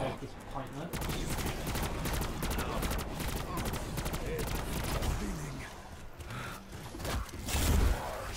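ABR 223 rifle firing in Black Ops 4 Zombies, a steady stream of rapid repeated shots that continues through most of the stretch, with a player talking over the gunfire.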